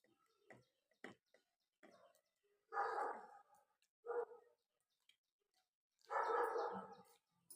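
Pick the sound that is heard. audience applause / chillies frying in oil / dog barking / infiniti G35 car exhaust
dog barking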